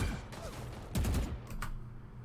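Vandal rifle fire in Valorant on the Haven map: a couple of quick bursts of sharp shots with short gaps between them, moderately loud against game ambience.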